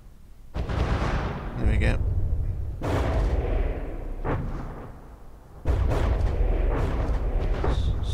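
Torpedoes and gunfire strike a ship in the naval combat game From the Depths, producing heavy booming explosions with deep rumbling tails, loud and close, separated by quieter gaps, while someone briefly talks over it.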